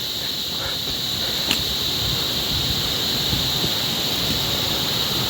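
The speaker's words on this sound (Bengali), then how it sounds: "তার মধ্যে ঝর্নার জলের আওয়াজ" Water from a waterfall rushes along a steep mountain forest trail in Uttarakhand, a continuous broad roar with a steady hiss and no voices.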